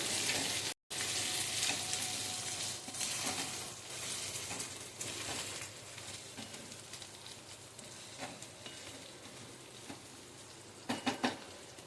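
Boiled potatoes frying in oil in a pan for sabudana khichdi, a soft steady sizzle with a few faint stirring scrapes and a light clink near the end.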